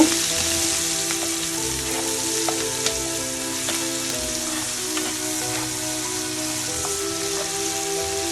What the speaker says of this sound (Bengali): পেঁয়াজগুলো এখন আমি ভালো করে ভেজে নিব